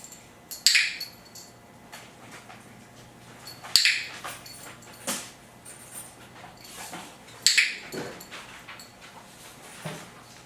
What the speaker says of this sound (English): To load the clicker, what you're going to do is you're just going to click and treat.